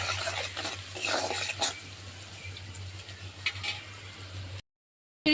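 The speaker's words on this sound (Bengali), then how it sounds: "পেঁয়াজ আর রসুনের সাথে হলুদ আর লবণটা একটু ভালো করে মিশিয়ে দিচ্ছি।" Onion, garlic, turmeric and salt being stirred together in a frying pan, a soft continuous scraping and shuffling with a few louder strokes over a steady low hum, no talking.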